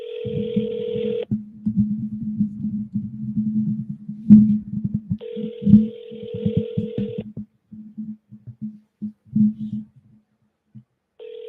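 A telephone call is placed, with a steady dial tone and ringback tones sounding in long steady bursts separated by pauses, while someone talks quietly underneath.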